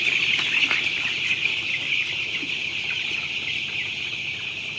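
Chickens on a poultry farm with litter flooring cluck and chatter in a dense, constant flock noise over several seconds, fairly close and with no talk.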